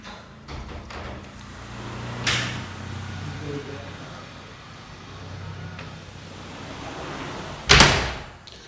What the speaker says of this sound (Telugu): ఇది అల్యూమినియం ఫ్రెంచ్ డోర్ అండి,